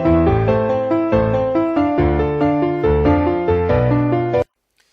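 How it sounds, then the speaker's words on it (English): Music passed through a stereo widening plugin plays as a loud run of rhythmic chords with steady repeated attacks, then cuts off sharply into near silence. "makes like left and right a bit different from each other, and that makes your head think that the sound is really wide"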